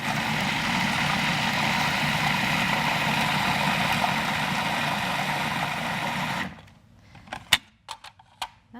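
A blender purees salsa vegetables with a steady loud motor whir that cuts off abruptly, followed by a few scattered knocks and clatters.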